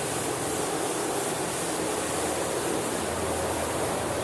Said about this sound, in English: There's a street cleaning truck going by, so it's going to get pretty loud right now.